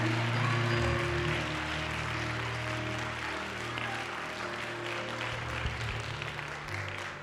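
A church congregation keeps up continuous hand clapping, dense and even for several seconds and easing slightly toward the end, over a low sustained musical drone.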